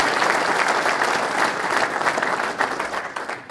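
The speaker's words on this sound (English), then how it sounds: "So join me in another round of applause for our staff." A room full of people at a New England PGA spring meeting gives a round of applause for staff: loud, continuous clapping, close and unbroken.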